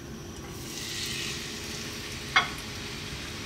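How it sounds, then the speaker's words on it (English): King fish frying gently in a dry pan over low heat, a soft steady sizzle with one brief sharp crackle partway through and no talking. "we're gonna go to the cooker and just fry this off gently"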